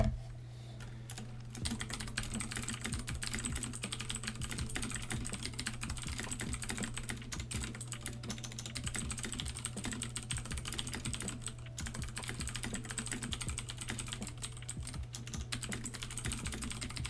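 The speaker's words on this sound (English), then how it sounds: "I'm not doing anything to the keyboard that I don't normally do. I don't feel like my keystrokes are aggressive." Continuous typing on a computer keyboard, a dense stream of crisp clicking keystrokes at an even fast pace, close up over a steady low hum, with no voices.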